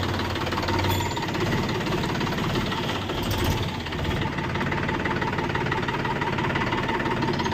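A Mahindra 405 tractor diesel engine of about 40 hp runs steadily close by, a loud, continuous knocking throb with no change in pace, heard without talk.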